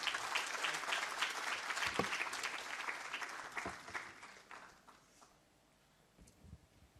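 A conference audience bursts into applause, dense clapping that holds steady for several seconds, then thins and fades into scattered claps and room noise.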